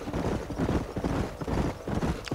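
Horse hooves clip-clop in Red Dead Redemption, a quick uneven trotting rhythm close by and fairly loud, with no voices over it.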